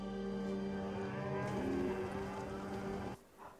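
Cattle moo in a long, deep, drawn-out call that rises and fades, close and fairly loud with no talking, ending abruptly.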